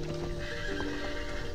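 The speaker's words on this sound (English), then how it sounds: "I was recently invited to photograph the Arabian horses at Bayt al-Arab in Kuwait." Arabian horses at a stable in Kuwait, hooves clip-clopping steadily on the ground while one horse gives a short neigh, close and moderately loud with no voices.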